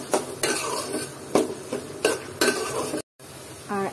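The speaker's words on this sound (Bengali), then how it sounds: "আর এখন দিয়ে দিলাম হচ্ছে পেঁয়াজ কুচি। আর এটাকে আমি সামান্য নেড়ে চেড়ে দিলাম।" Chopped onion with whole cumin stirred in a pan, several distinct scraping strokes of a spatula against the metal with a faint sizzle between, close and moderately loud.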